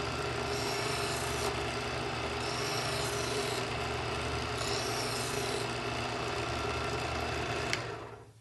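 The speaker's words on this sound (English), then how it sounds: "Now you sharpen the complete blade." A knife blade is drawn through an Edgeware sharpener's interlocking ceramic wheels, a continuous gritty rasping with a few stroke-like surges, close and fairly quiet, ending with a small click.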